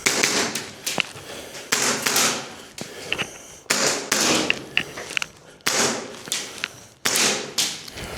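Tokyo Marui airsoft pistols, a 1911 and a USP Compact, fired on a timed gauntlet course, sharp close snaps and clacks coming in quick groups with short pauses between them, and no talking.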